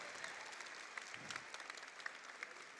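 An audience at a Bogotá main-stage event applauds a Colombian dance group, a steady wash of many hands clapping at a distance, fairly faint, with a few sharper claps standing out.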